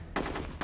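Bursts of gunfire in the video game Rogue Warrior land as headshots, a loud close volley with a short break before another shot.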